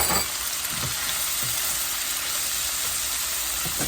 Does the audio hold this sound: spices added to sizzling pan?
yes